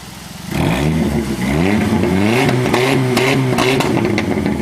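A Pontiac Firebird's 5.3 V8 rumbles close by, then is revved up and held at a loud, steady, throaty roar with wavering pitch and no talk over it.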